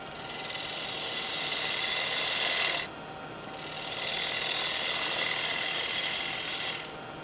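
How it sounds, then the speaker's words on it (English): Small bowl gouge cutting on a wood lathe during an iron turning challenge for a wig stand: a steady close rasping scrape in two long passes with a short pause between, loud and without talk. "Now I've changed to the smaller of the bowl gouges. It's a bit more delicate."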